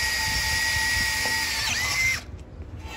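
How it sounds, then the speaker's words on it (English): A power drill with a sharp cobalt bit boring into metal, a steady whine with rising and falling tones that stops abruptly near the end, close and loud with no speech. "when you're drilling, you want this. That's the sign of a sharp bit."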